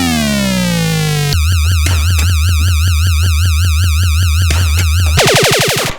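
Electronic sound effects from a Gottlieb wide-body pinball machine: a loud, continuous run of synthesized tones that starts with a falling sweep, shifts into a fast, rhythmic warbling pulse and ends with rapid rising and falling chirps.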